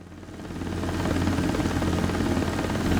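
Rotor and turbine engine of a simulated helicopter in X-Plane 12 make a steady whine and rhythmic blade thump, swelling in the first second and then holding loud and constant.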